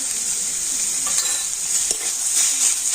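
Boiled greens and potato are stir-fried with salt in a pan, giving a steady, loud hiss of sizzling oil broken by light spatula scrapes, close and without any voices.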